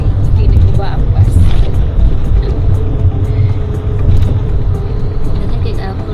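Inside a moving bus in Backnang, Germany, a steady low engine and road rumble continues throughout, with people talking over the ride noise.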